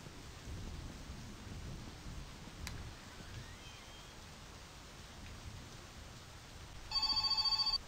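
Heavy rain pours as a steady dense hiss, fairly faint, with a brief sharp crack midway and a short electronic phone ringtone near the end.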